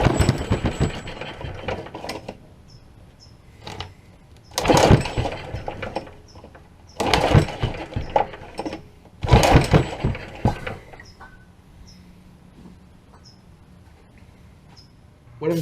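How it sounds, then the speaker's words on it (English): Old Honda small engine turned over by repeated pulls on its recoil starter cord, each pull a loud rasping, ratcheting burst of a second or two, separated by quieter pauses with faint mechanical clicks. "I'm simply just going to pull on the pull cord with the ignition on and see what it does."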